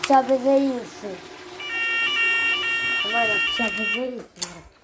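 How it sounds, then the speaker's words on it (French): An electronic alarm siren sounds a steady, high, multi-tone wail for a couple of seconds, with a voice speaking briefly before and after it. "Et donc mon alarme fonctionne"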